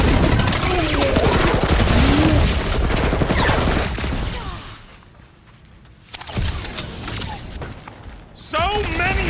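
Rapid gunfire and clanking mechanisms from the video game Guardians of the Galaxy fill the first few seconds loudly, drop away to a lull, then return in renewed bursts of shooting and effects.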